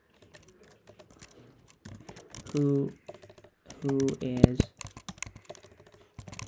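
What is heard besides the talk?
typing on a computer keyboard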